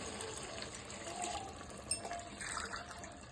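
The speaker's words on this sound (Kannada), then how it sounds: "ಅಕ್ಕಿ ತಗೊಂಡಿರುವಂತ ಗ್ಲಾಸ್ ಅಲ್ಲಿ 3 ಗ್ಲಾಸ್ ನೀರು" Three glasses of water being poured onto rice for chicken biryani, heard as a faint, soft trickling and splashing in a quiet kitchen.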